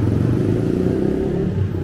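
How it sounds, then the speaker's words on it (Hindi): Zoomer rental motorbike in Bangkok running steadily up close, a loud continuous engine drone with mechanical clatter and no speech. "ये वाली बाइक है जूमर बाइक"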